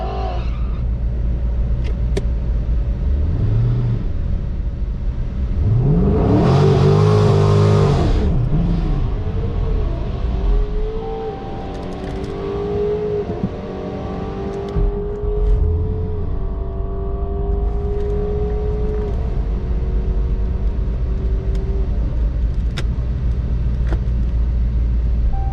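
A Lamborghini Urus drag racing a procharged, cammed 5.7 Hemi R/T, with engines roaring and revving hard in a loud surge mid-run, then lower rumbling and gear changes fading under steady background noise.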